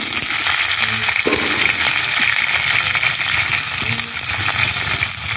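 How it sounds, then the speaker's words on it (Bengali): Potatoes and onions fry in a pot with whole spices such as nutmeg, cardamom, cinnamon, cloves, peppercorns and dried chillies, giving a steady, close hiss of oil with a few faint clinks. "আলু আর পেঁয়াজগুলোকে ভালো করে ভেজে নেব।"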